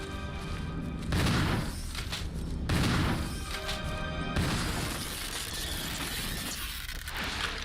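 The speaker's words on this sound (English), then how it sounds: "Just use the shotgun." Three heavy shotgun blasts from a video game boom out at spaced intervals, each a loud broadband crack trailing into a shattering, rumbling tail over steady background noise.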